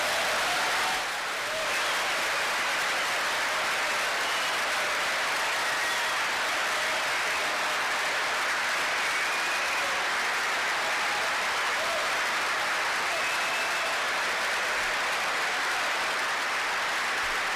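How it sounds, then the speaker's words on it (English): An audience in a room applauds a leader as he walks in. The clapping is sustained and dense from many hands, with a brief dip near the start, then steady and even to the end, with no voices. "Look at how our leaders applaud him as he walks into the room."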